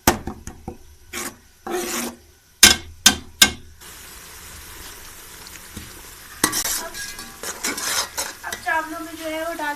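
Rice and dal with peas stirred in a pan, with sharp scraping strokes in bursts, a quieter stretch, then more rasping stirring near the end.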